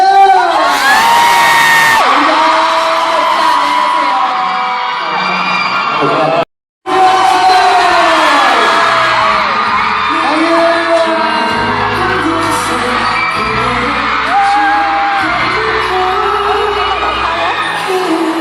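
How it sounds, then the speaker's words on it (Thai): A large crowd at a KyuHyun fan meeting in Thailand cheers and whoops loudly throughout, with high shrieks and yells, a brief cut of silence, and a presenter's voice mixed in. "ถ้ามีความสุขส่งเสียงได้ก็บเชียร์เลย"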